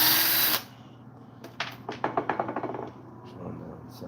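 Small screws being backed out of a chainsaw's cylinder cover during a restoration, giving a run of quick, light clicking ticks after a loud opening burst, close up and fairly faint.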